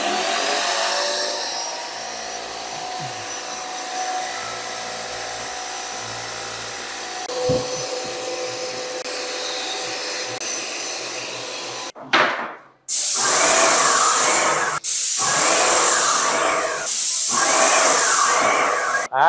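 A paint sprayer machine used for wall painting starting up, first a quiet hum, then after a short gap a loud hissing whir that pulses rhythmically, close and alone.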